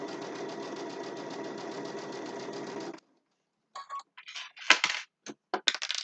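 A sewing machine stitches across a boxed zipper bag in a steady, close, rhythmic run for about three seconds, then stops, followed by a few soft handling clicks and rustles.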